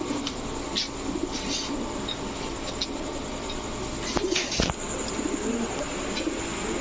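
Rajshahi Giribaj pigeons, a breeding pair of male and female, coo in low repeated murmurs against a steady busy background, with a couple of sharp knocks near the end.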